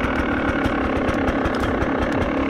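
A new Beta motorcycle engine idles while warming up, a close, steady mechanical chug with a rapid, even pulse and no talk over it.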